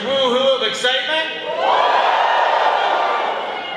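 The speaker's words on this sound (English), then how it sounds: "Let's hear that one clap, that large woohoo of excitement" A graduation crowd breaks into a broad wash of cheering and clapping that swells and holds for a couple of seconds, right after a short stretch of a voice talking.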